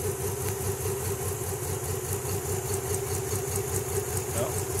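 A Nissan Z31 engine idles with a misfire while a spark plug is pulled, a quiet uneven chugging with a rough, irregular pulse.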